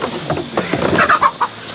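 Several chickens cluck in short, irregular bursts close by, with a busy farmyard bustle underneath.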